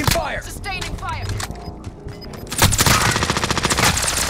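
Rapid automatic gunfire in a video game, loud dense bursts that build into sustained rattling fire, with in-game voices shouting over the start.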